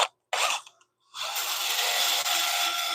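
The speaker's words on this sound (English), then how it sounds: "I can sand some of that away right now" Sandpaper pressed against the back of a spinning wooden bowl on a woodturning lathe gives a loud, steady broadband hiss after a couple of brief starts, close and continuous, with no voices.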